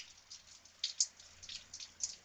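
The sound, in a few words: rain dripping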